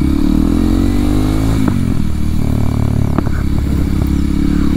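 A 2023 Kawasaki KLX 230SM motorcycle engine running loud and close, a steady droning thrum that climbs in pitch as it revs, with a few sharp pops and clattery bursts mixed in.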